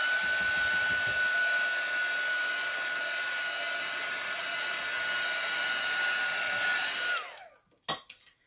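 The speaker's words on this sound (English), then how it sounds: "I'm gonna take the heat gun to it." A heat gun blows on alcohol ink artwork with a loud, steady airy roar and a constant whine, then shuts off and spins down, followed by a couple of faint handling knocks.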